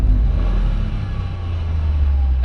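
Toyota GR Yaris exhaust at a steady, low rumbling idle, close and constant throughout with no distinct rev rise.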